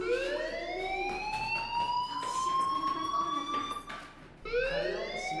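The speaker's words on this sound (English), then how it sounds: "Hey, do you hear that fire alarm?" A video game fire alarm wails in rising, sweeping siren tones, loud and continuous, briefly dipping before starting a fresh sweep.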